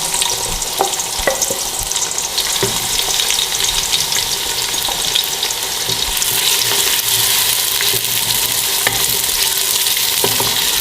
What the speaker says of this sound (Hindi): प्याज को ऑयल के अंदर थोड़ा फ्राई करेंगे।